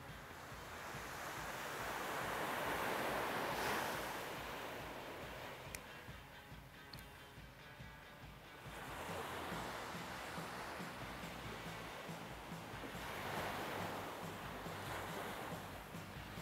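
Ocean waves wash onto a secluded Florida beach at Stuart in the morning, a soft, distant surf whose swells rise and fall in slow cycles under light wind noise.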